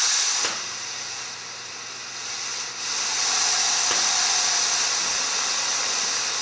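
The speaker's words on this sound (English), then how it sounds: "With the lathe on, we first turn the coolant on." A Mr. Coolant mist system on a lathe sprays cool air and coolant during case turning in the tailstock, a steady close hiss with a few faint clicks.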